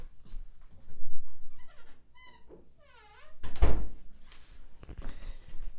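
A door opens with a sharp thunk and a rattling clatter about midway, and a second softer knock follows. Before it come squeaky, rising animal vocalizations, with faint indoor background noise.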